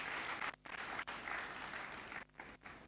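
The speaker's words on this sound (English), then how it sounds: "Let's clap for ourselves." A conference audience claps steadily for about three seconds, fairly faint and roomy, with a few brief breaks in the sound.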